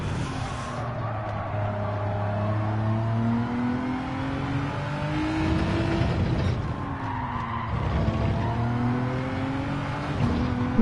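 A rally car in a racing game revs hard and its tyres skid and squeal in long sweeping pitch glides as it accelerates and slides. The engine is loud and continuous, and no one speaks.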